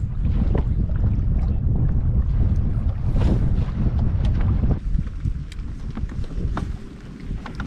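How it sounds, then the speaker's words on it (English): Wind buffets the microphone while choppy water on Lake Guntersville slaps against a fishing boat hull, with steady rushing noise and irregular splashes. "This water's pretty choppy. Wind's going pretty good"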